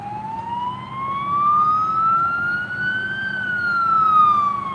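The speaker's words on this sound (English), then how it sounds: "Now we've got an ambulance or something coming along here now." An ambulance siren passing by near a hospital, a loud wailing tone that slowly rises and falls as it goes past, with faint traffic rumble beneath.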